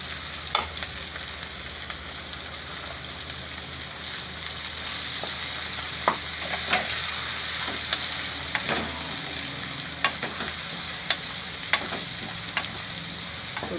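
Onion frying in a hot oil tempering for Kathiyawadi vaghareli khichdi, a steady close sizzle with scattered sharp pops and crackles throughout, no voices.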